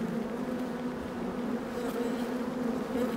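A hive of bees hums with a steady, dense drone, continuous and close throughout, no voices present.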